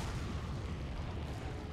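Rocket launcher explosion in Resident Evil 4, a dense rumbling low blast and roar that holds steady for about two seconds, fairly faint and distant.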